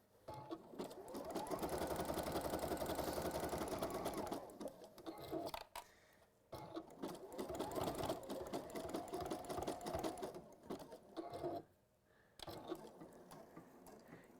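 A domestic sewing machine runs a wide zigzag stitch through fabric in two long bursts of rapid mechanical ticking, close and steady, separated by short pauses and handling noises.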